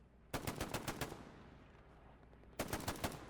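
Two close bursts of rapid automatic gunfire in Hell Let Loose, a competitive World War II shooter, each a fast string of sharp cracks, separated by a quiet gap of fading echo.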